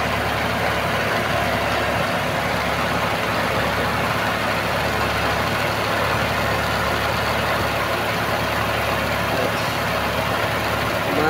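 A Hyundai Eon's engine idles with the air-conditioning compressor clutch engaged, giving a steady, loud mechanical drone and hum that holds unchanged throughout.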